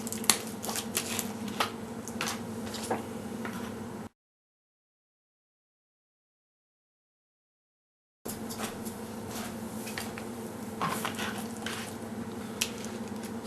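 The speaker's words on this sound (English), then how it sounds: "You just want to mix it up, stir it around." A popsicle stick stirs a blue-tinted aqua resin mixture of powder and liquid, giving soft, wet scraping and squishing with small clicks, close and quiet, broken by a stretch of total silence in the middle.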